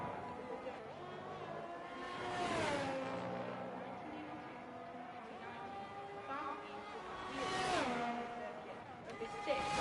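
A Ferrari racing car in a sim racing game runs out of the final corner and crosses the line, its engine whining and shifting as it rises and falls, with a commentator talking over it.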